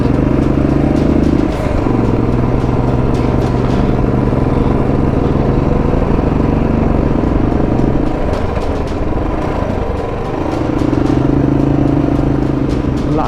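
A motorbike over 125cc labours up a mountain road from Lachen toward Gurudongmar Lake in winter, its engine droning loud and close with shifting load, gear changes and rattling clatter along the way.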